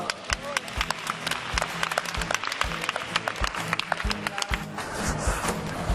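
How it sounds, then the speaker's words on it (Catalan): A small group claps to welcome a new player at a training session, with quick uneven claps running throughout while people talk over them. "Fem un aplaudiment, no?"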